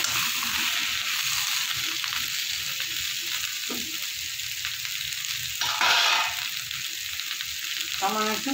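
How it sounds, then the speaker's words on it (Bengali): Pieces of pointed gourd (potol) fry in hot oil in a wok, giving a steady close sizzle throughout with a brief louder burst of crackling near the end. "পটলটাকে একটু ভেজে নেব।"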